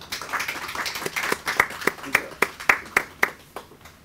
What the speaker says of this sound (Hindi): आपकी भरपूर तालियों में डॉक्टर गाफिर